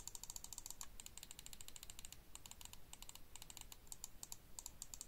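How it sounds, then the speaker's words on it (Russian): Corsair Katar Pro gaming mouse buttons clicked in quick repeated bursts, crisp, close and quiet, with brief pauses between runs and no talking. "У них приятный клик, как тактильно, так и по звуку."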